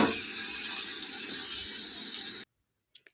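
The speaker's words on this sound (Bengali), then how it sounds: "সমস্ত সবজিগুলো যে ভাজা হয়ে গেছে একটা পাত্রে আমি ঢেলে নিলাম।" Fried winter vegetables are tipped out of a wok into a vessel for a rustic village vegetarian dish, a steady loud rustling, sizzling pour for about two and a half seconds that stops abruptly, followed by a couple of faint knocks.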